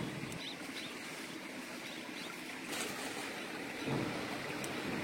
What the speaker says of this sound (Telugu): బ్యాక్గ్రౌండ్ లో వినండి, ఆ సెలేరు ఇట్లా పారుతుంది.